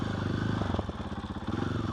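A motorcycle fitted with a new exhaust runs steadily close by, its engine giving a loud, throbbing, pulsing note with a slight dip in the middle before settling back into an even rumble.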